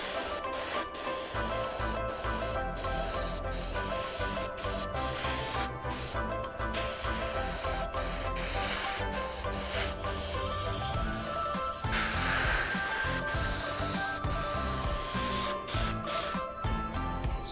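Clear polyurethane is sprayed onto the skin of a rocket body, giving a steady, close, loud hiss that runs almost without a break, with a few very short pauses as the spray stops and starts again.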